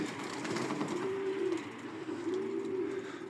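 Pigeons coo in a breeding loft crowded with birds, low rolling coos repeating twice at close range over a steady background hum, with no talk.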